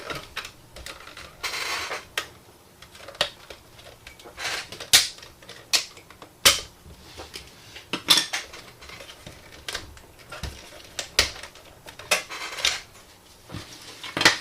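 A Nintendo Wii is taken apart, its plastic covers pried off, giving sharp irregular clicks, snaps and clatters, close and fairly loud with no talk.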